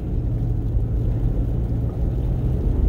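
A 2020 Prius Prime drives along a snowy road, giving a steady low rumble of tires and cabin road noise heard from inside, constant and fairly loud.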